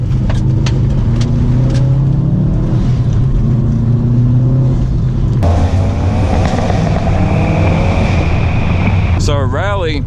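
A stock 2012 Subaru WRX STI powers out of a corner on a rally stage, engine note rising steadily under wind buffeting, with someone talking over the drive throughout.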